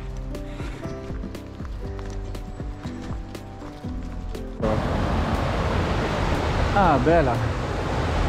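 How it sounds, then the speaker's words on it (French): Small waterfall at the Durzon spring resurgence on the Larzac plateau, a steady rushing splash that rises abruptly to fill the scene after footsteps and a brief spoken exclamation. "Une petite cascade, et au-dessus ça fait une espèce d'étang, une résurgence."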